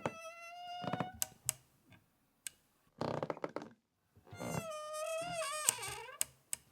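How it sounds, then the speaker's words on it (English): A creaking wooden door hinge squeaks in long, tonal, wavering squeals, two main drawn-out creaks with sharp knocks and clicks between them, standing in for a turning wagon wheel. "I recorded my door to try and emulate the sound of how that wheel would sound."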